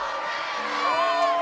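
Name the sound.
people cheering in a played video clip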